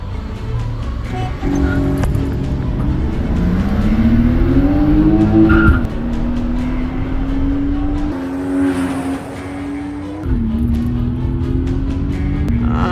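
A race car engine revs hard during a race, the pitch climbing and dropping through gear changes with tire squeal mixed in, loud and continuous, with faint voices underneath.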